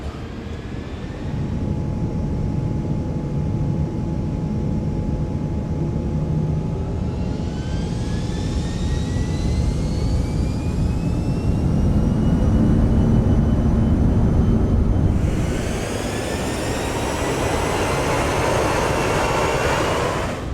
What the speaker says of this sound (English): we'll go ahead and push our throttles into max toga